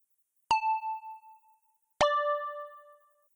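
Two clean synth notes sound in turn, each with a sharp attack and a bell-like decaying tone. The first fades after about a second and the second rings slightly longer. Both are dry, with no vocoder, distortion or delay, and no one talks.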